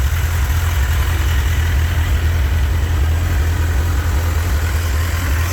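A 1997 Suzuki GSX-R 1100 motorcycle with a big aftermarket exhaust runs warm and close, a steady deep low rumble throughout with no distinct rev peaks, alone without talk.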